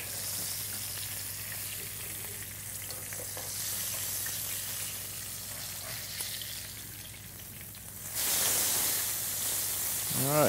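Flounder fries in a pan with a steady close-range sizzle and hiss that grows louder and brighter toward the end as the fish keeps browning.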